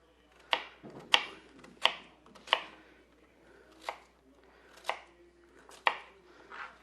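Knife chopping onions into thirds on a cutting board, about nine sharp separate cuts at an uneven, unhurried pace, close and fairly quiet, with no talking.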